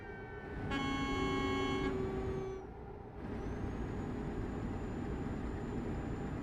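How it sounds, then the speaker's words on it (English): Horn of a passing truck in Euro Truck Simulator 2, a loud multi-tone blast that slides in pitch as it goes by, then a steady high tone over constant engine and road rumble. "The horns in this game have the Doppler effect, which is really nice to hear."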